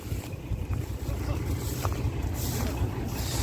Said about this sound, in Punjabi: ਉਹ ਸਾਹਮਣੇ ਕਰ ਰਿਹਾ ਆਪਣੀ ਕੰਬਾਈਨ ਚੱਲੀ ਆ ਜੀ ਕੱਲ ਆਪਾਂ ਚਾਲੂ ਕੀਤੀ ਆ